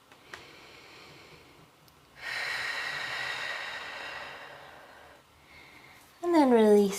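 A deep breath taken while hanging forward in a beginner arm and shoulder workout: a long, steady, airy exhale holds for about three seconds. Brief softer breath sounds come before it, and a spoken voice follows at the end.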